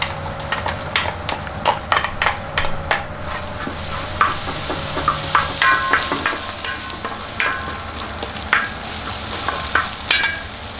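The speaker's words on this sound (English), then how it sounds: "Then add that green peas into this." Green peas being stirred into a crushed hara bhara kebab mixture in a hot pan, with loud, close scraping strokes of the spoon and a soft sizzle running underneath.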